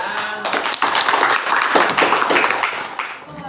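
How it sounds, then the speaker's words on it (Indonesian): A classroom group breaks into applause after a student presentation, a dense, steady patter of many hands clapping at close range for a few seconds before tapering off. "Oke, tepuk tangan."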